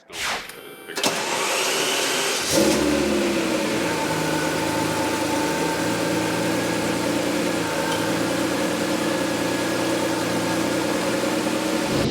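A Ferrari Testarossa's engine starts and settles into a steady, loud idle as the car rolls out, with a brief burst of mechanical noise at the start and a sustained, even hum throughout.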